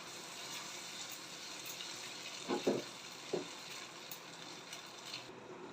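Chilli chicken gravy thickened with cornflour bubbles in a pan, a steady close sizzling hiss with a few soft pops and splutters and no talking.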